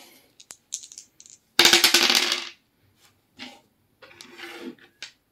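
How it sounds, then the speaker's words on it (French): Dice are rolled on a tabletop during a monthly savings challenge. A few light clicks lead into one dense rattling clatter that lasts about a second, followed by scattered small taps. The sound is close and otherwise quiet. "Donc là, on va relancer nos dés."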